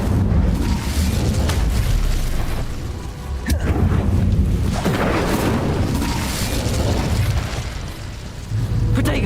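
Incendio fire spell cast in Hogwarts Legacy, a steady roaring rush of booming, fiery bursts with a sharp crack partway through, loud and continuous throughout.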